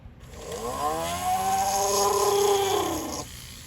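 A dull rotary burr drilling through a small sand-cast heart pendant held in a ring clamp, a close, continuous whining grind that rises in pitch and holds for a few seconds before cutting off.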